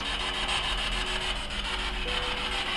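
A homemade ghost box device, a radio-sweep gadget built for about $100, gives off a steady hissing, rasping static with faint pulsing sweeps, held close and loud with no voices over it.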